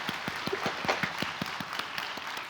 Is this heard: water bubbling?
no